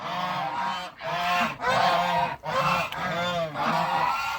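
Geese honk close by in a run of about five loud, nasal calls, each separated by a short pause.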